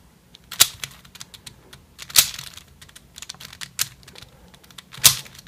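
A 3x3 speed cube, a MoYu or Cyclone Boys puzzle, is turned through corner cutting, giving sharp plastic clicks and clacks in uneven bursts, with four louder snaps standing out. The sound is close and clear, with no talking.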